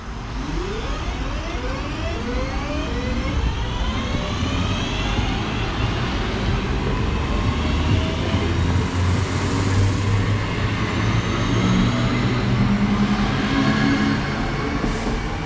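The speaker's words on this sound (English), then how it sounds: "Train running a couple minutes late, but that is the 12:31 service to Manchester Piccadilly from Stoke-on-Trent" A Class 323 electric passenger train rumbles steadily through Bramhall station, with rising and falling tonal whines from the motors and clattering wheels, continuous and fairly loud, with no voices.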